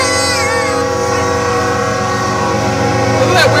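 Union Pacific 8196 freight train rolls through St. Elmo, Illinois, a loud, steady rumble of wheels and cars close by, with a brief horn-like tone near the end.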